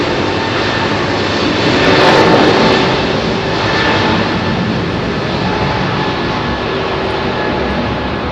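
A Boeing 737 jet departs London Heathrow on runway 27R with a loud, sustained engine roar that swells to a peak early and then holds steady, a broad rushing noise with a thin whine and no voices.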